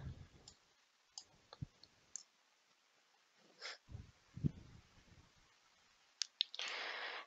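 Several sparse, faint mouse clicks while saving entries on an online diploma-evaluation application website, with quiet breathing-like noises and a brief louder burst of noise near the end.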